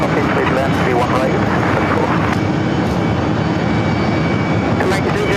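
A jet landing on runway 31 right at JFK airport, heard as a loud, steady engine roar that fills the scene without pause, with voices talking over it.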